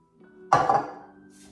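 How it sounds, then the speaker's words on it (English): Cooked farro tipped from a rice cooker pot into a bigger bowl, one soft clattering scrape and knock of the pot against the bowl, close and brief, over a faint steady background hum. "we're just gonna transfer it into a bigger bowl"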